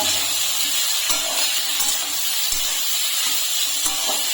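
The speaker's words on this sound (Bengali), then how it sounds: "পাঁচফোড়নটা ফুটে গেলে আমি আমলকিগুলো দিয়ে দিচ্ছি এখন একটু নেড়ে নেব" Amla (Indian gooseberries) frying in hot oil with panch phoron and chilli, a steady, close hiss and sizzle with a few faint clinks of stirring.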